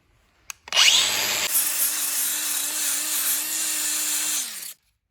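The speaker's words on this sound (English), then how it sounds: "So I'm just gonna use a wire wheel." A power-driven wire wheel grinds against an aluminum part from an Audi/VW 2.0T engine, starting with a brief spin-up and then holding a loud, steady, harsh scraping whir for about four seconds before it cuts off abruptly.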